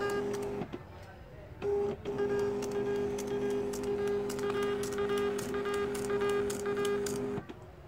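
A Zebra TLP2844 direct thermal barcode label printer prints sticker labels, giving a steady buzzing whir with fast ticking feed clicks for several seconds after a brief pause, close and clear, with no talk over it.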